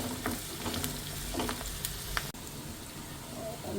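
Onion and vegetables sizzle and sauté steadily in a pan for rava upma, with intermittent stirring scrapes and one sharp clack partway through.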